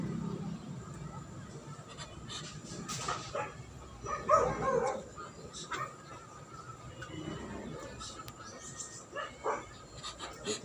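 Several backyard dogs bark and yip intermittently at a moderate distance, with a louder burst of barking partway through, while someone talks over them.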